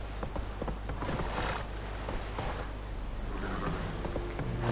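Horse hooves clip-clop steadily while riding uphill in The Witcher 3: Wild Hunt, a soft, even gait under continuous game ambience with no talking.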